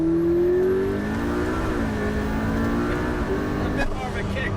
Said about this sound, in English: With the turbocharged engine, you normally might have some turbo lag, but with the electric motor, it fills the gaps and gives you instant torque straight away